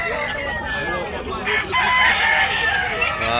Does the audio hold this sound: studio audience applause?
no